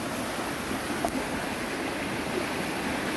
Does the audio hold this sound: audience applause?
no